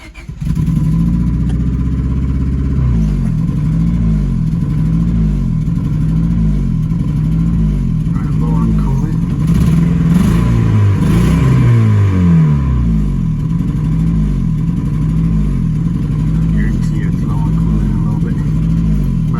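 A car engine that has just been started after its fuel pump primed runs at a loud, close, steady idle. The low rumble has a slightly uneven, lumpy rhythm, and there is a brief rise in revs partway through.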